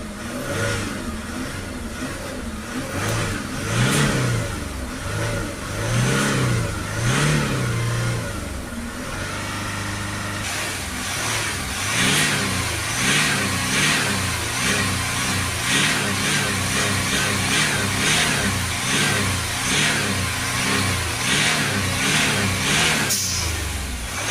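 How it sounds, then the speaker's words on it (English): A Jaguar XF 3.0 engine with an EGR throttle position sensor fault revs repeatedly, rising and falling in steady surges, loud and close, then holds at a higher sustained drone with more revving. "Just going to come inside the car, give it a few revs."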